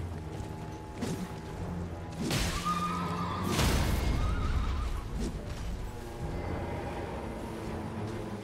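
A horse in the video game Elden Ring whinnies a few times, with thuds and mechanical game effects around it and no talking.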